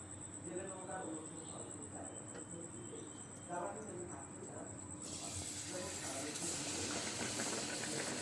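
Egg pitha dumplings fry in hot oil, the crackle starting faint and swelling into a loud, dense sizzle halfway through, with low murmuring voices and a thin high whine in the background.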